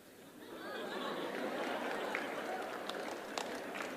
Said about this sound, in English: the teachers are clapping more than the students